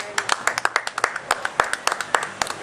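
A congregation at a Christian testimony service applauds, a short burst of irregular, close hand claps from a small group, sharp and crisp, with a voice heard faintly among them.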